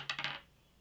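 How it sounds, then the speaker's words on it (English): Small dice for a Roman Disaster at Teutoburg board game tumble onto a hard surface in three or four quick, light clicks that fade out within half a second, close and quiet. "Then we're going to roll our 5 dice."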